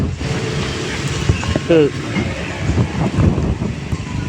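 Strong wind from Super Typhoon Uwan in Taytay, Rizal roars steadily with gusty buffeting against the microphone, a broad rushing noise throughout, with a brief creaking sound midway.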